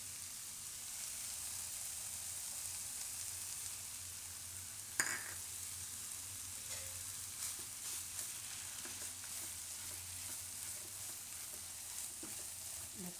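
Grated raw papaya halwa roasting in a pan while being stirred, a steady low sizzle with occasional scraping and clinking of the spoon, quiet and without speech.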